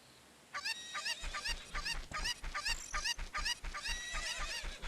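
Chickens in the Zelda 64 Space World '97 beta game cluck in a rapid series of repeated squawking calls, loud and continuous with no talk.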